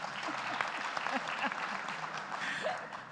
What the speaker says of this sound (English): I want you all to give a hand for Anita